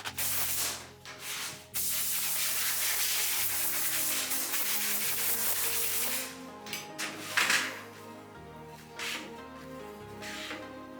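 Wooden closet panel getting a quick hand sanding, a close rough scratching hiss in bursts with short gaps and a few soft knocks toward the end.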